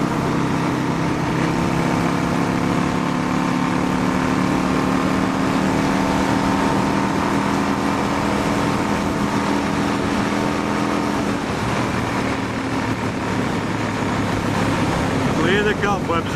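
A motorcycle engine drones steadily at speed on an open road, loud and continuous with wind rush, shifting in pitch near the end.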